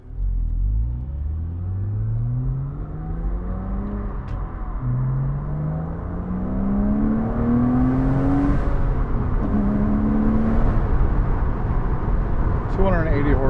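A 2005 Porsche Boxster S engine pulls hard through rising gear sweeps while driving, its note climbing, dropping at each shift and climbing again, loud and close throughout.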